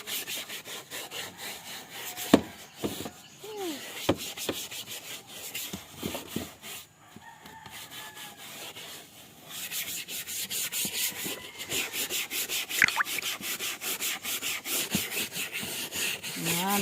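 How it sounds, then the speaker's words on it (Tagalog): Scrubbing a surface by hand: repeated close rasping strokes in an uneven rhythm that grow busier and louder in the second half, with scattered knocks and a voice briefly heard in the background. "Dali, kuskusin mo. Ayusin mong pagkuskus."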